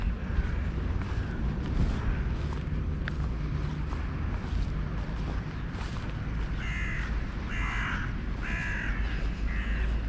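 Crows cawing outdoors near a shopping center, several harsh caws in a quick cluster late on over a steady rumbling background of wind or traffic, no speech.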